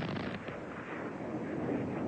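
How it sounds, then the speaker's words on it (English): Two-inch rockets from Buccaneer aircraft pods strike a ground target in a rolling, rumbling barrage of distant blasts, faint and continuous with no distinct single bangs. "awaiting the impact of four pods, each of 36 two-inch rockets, from each of three aircraft"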